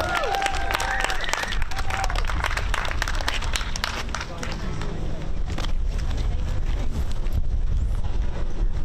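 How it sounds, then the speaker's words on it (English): A crowd applauds and cheers at an outdoor protest near the G7 summit in Canada, sustained loud clapping with wind buffeting the microphone and voices mixed in. "Let's have a round of applause for Scott Deal."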